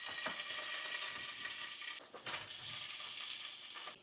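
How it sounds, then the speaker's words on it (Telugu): Tomato and capsicum fry in oil in a pan, giving a steady, close sizzle with occasional stirring scrapes and a brief dip midway before the frying hiss resumes. "సో ఇవి రెండు కొంచెం ఆయిల్లో ఫ్రై చేసుకుందాం."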